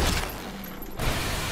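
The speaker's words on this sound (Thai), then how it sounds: "ต้องใช้ปืนกลครับ" Dense bursts of machine gun fire in Dead Island 2, loud and rapid, with a short lull before the firing resumes.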